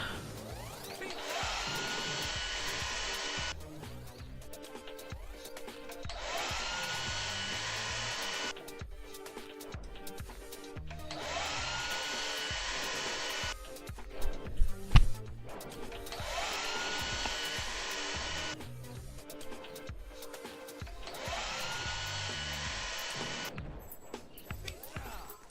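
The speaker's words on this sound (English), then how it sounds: "Alright, blow dryer again." Blow dryer disaster in the Roblox game Survive the Disasters 2: a loud, steady blowing roar that cuts in and out in five long bursts, each about three seconds, with quieter gaps between.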